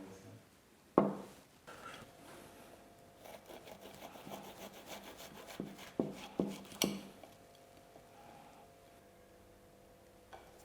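A knife slices through a rustic walnut tart, giving a few sharp crunchy cuts and scraping strokes at close range, with quieter rubbing between them.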